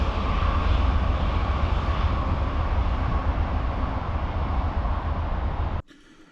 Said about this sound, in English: Here goes the California Zephyr.